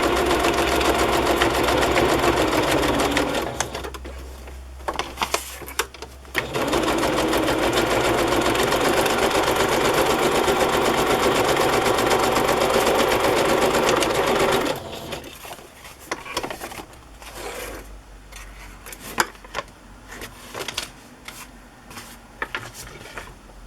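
A home sewing machine runs a straight stitch in loud, steady bursts, a long continuous whir broken by short pauses, then quieter intermittent stitching and handling clicks toward the end.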